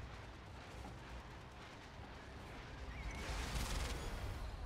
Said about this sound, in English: Catalyst missile dropped once again in that middle Tiberium. That brings down the two refineries.